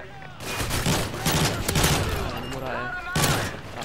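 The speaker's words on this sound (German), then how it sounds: "Warte mal, Barrett, du ziehst sie mit einem Schuss, wa?" Rapid bursts of gunfire in Modern Warfare 3 Survival mode crackle and pop in quick succession, dense and loud, with a German-speaking voice briefly audible among the shots.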